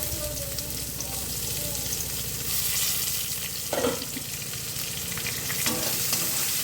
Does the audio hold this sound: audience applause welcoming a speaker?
no